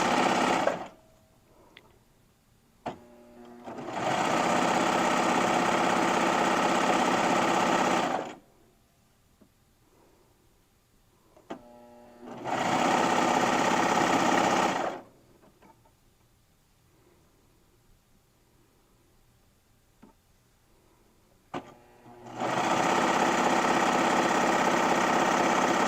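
A serger sewing machine stitching a basic shirt runs in three long steady bursts, each a loud even whir close up, separated by quiet pauses with small handling clicks.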